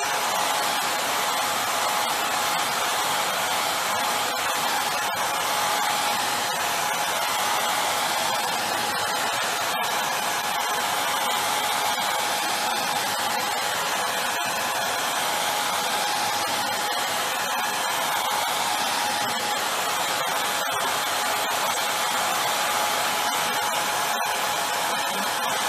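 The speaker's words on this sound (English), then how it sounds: "we will see if this air blower's hot temperature will damage this back film or not." A hot air blower dries an uncoated SGZ zinc plate with a back film, producing a steady, continuous whooshing roar that holds at an even level throughout with no talking.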